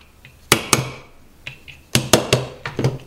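A hammer taps a retaining pin into the lower receiver of a Viper Tech airsoft rifle, giving sharp, close metallic knocks in uneven bursts of two and three with short pauses between.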